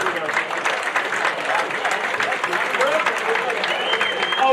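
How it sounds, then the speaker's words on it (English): A room full of supporters at the Bury AFC Player of the Season Awards claps in a dense, continuous round of applause, fairly loud and sustained, with voices mixed in under the clapping. "give yourself a round of applause, guys"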